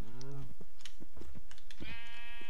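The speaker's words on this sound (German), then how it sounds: "Wir füttern Schafe" Sheep in the Minecraft video game bleating several times in a row, nasal wavering calls close up, alongside small clicking and tapping sounds from play.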